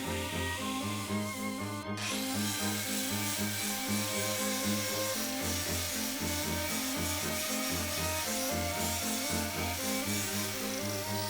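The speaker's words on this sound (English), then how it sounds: "I am now removing the scale covering many of the forge welding steps" Forge scale is ground off a forge-welded steel Viking spearhead, a continuous loud abrasive whine with a pulsing rhythm, steady throughout and heard alone.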